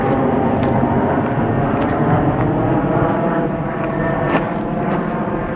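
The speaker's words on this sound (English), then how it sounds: "loud noise of the airplane" An airplane flying overhead near a trail at a waterfowl preserve, a loud, steady broadband roar that holds for several seconds with no talk.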